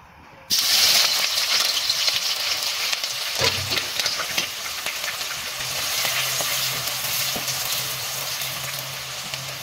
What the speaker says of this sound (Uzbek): Qizitib, endi qiymamizni solib, piyozimizni solib,